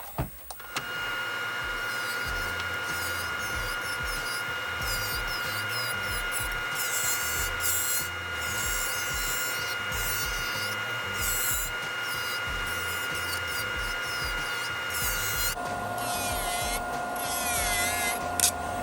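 Acrylic nails being filed off with a nail e-file spinning at 15,000 RPM, a steady high whine with a bright constant tone that runs unbroken throughout and shifts pitch near the end, close and moderately loud.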